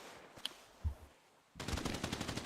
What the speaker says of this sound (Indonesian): Kau siapa sih nih menembak aku anjir?